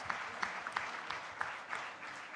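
An audience claps in a hall at a competition's final-round opening, a steady spread of many hands with a few sharper slaps poking through, moderately loud and with no voices over it.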